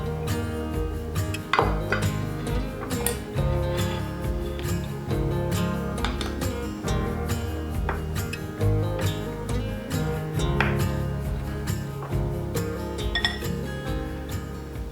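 A fork clinks and scrapes against a dish while stirring crumble toppings together, a quick steady run of small metallic taps throughout, close and fairly quiet.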